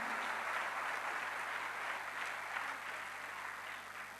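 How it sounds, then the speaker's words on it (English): A full auditorium audience at a quiz competition applauds steadily, a dense wash of many hands clapping at once that holds level and then slowly fades, with no one speaking over it. "Round of applause for all of you."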